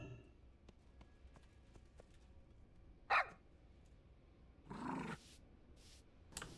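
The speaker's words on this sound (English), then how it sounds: "I will try to pet the puppy." A puppy in World of Warcraft gives two short barks, a sharp one followed by a longer one a second or so later, over quiet game ambience.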